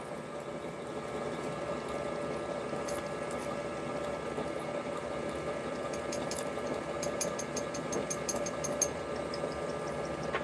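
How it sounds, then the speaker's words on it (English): A counterbore cutting a hole in a front-mount HEI distributor mount for an LS 5.3 engine, a steady whirring drill drone with sharper metallic chatter toward the end, close and continuous. "let's counterbore our first hole"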